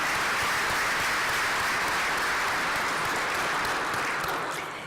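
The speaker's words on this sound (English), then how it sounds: "let's give them one final round of applause" A large audience applauds at an engineering alumni awards banquet, producing dense, sustained, loud clapping that carries on evenly and tapers slightly at the end.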